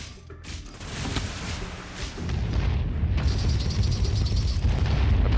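Cannon fire and explosions against a pirate ship in the space game Landinar, a dense rumbling barrage of booms with mechanical clanks that swells louder and holds steady to the end, with no talking.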